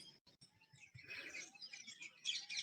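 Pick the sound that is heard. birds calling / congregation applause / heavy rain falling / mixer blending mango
birds calling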